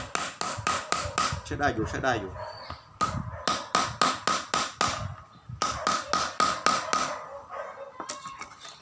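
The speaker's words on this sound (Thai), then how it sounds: "ค้อนอย่างนี้จะทุบไหวไหมครับ" Repeated heavy hammer blows striking metal grass-cutter parts, arriving in quick bursts of four to six hits separated by pauses, with someone speaking briefly between them.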